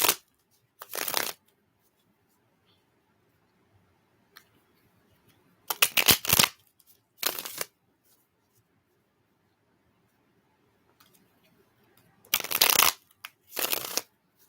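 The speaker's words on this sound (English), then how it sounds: "We're almost done shuffling." Playing cards shuffled at a live reading, several loud, close riffling bursts of a second or so each, separated by long quiet gaps with faint background murmur.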